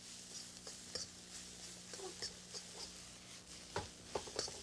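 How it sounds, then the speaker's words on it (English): Fried rice ingredients being stirred together in a pan, soft continuous scraping and light pattering with a faint sizzle, quiet and close, with no voices. "Just stir them together."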